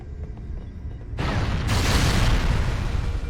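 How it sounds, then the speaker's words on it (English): A massive explosion in the video game Halo: Combat Evolved, a sudden heavy boom that cuts in after a quiet stretch and then roars into a sustained, dense rumble to the end. "A massive explosion kills the engineer."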